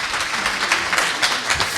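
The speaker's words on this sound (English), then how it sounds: "Can you all give yourselves a round of applause?" An indoor audience gives a brief round of steady applause, many hands clapping together at an even level throughout.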